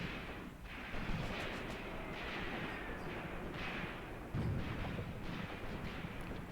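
5 cm mortar rounds strike a barn in the Graviteam Tactics war game, a series of rumbling blasts and crumps under a dense, noisy battlefield wash, moderately loud with no voices.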